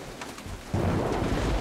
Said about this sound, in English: In this storm?